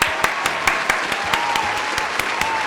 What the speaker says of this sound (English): Can we get a round of applause for Crystal Tomlinson